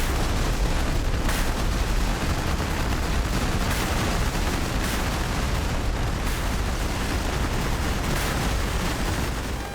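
Bomb blasts from an F-15E Strike Eagle dropping ordnance on a close air support run near a border in the DCS flight simulator, a dense, continuous rumbling roar of overlapping explosions that stays loud and steady throughout.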